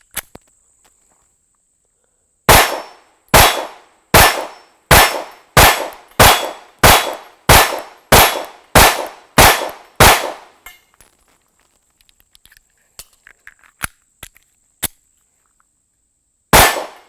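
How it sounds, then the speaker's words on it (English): A Sig P365 pistol firing its first rounds: about eleven loud, sharp, evenly spaced shots close by, followed by scattered light clinks and a single final shot after a pause. "So let's start out shooting our first rounds of these bad boys."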